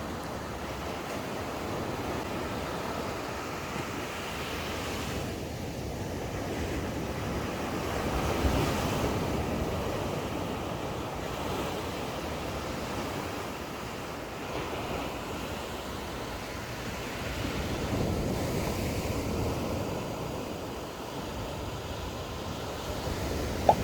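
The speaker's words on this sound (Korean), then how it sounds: "서핑하기에 좋은 파도예요." Big surfing-sized ocean waves crash at Bunam Beach in Samcheok, a continuous roar of surf with swelling breakers every few seconds, mixed with gusting wind buffeting the microphone.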